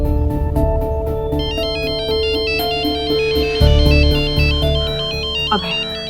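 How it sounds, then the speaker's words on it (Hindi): A phone plays a melodic ringtone, repeating bright electronic notes over a busy dramatic background score, loud and continuous with a brief swell near the end. "वर्षा जी आप फोन उठाइए, स्पीकर पर डालिए प्लीज।"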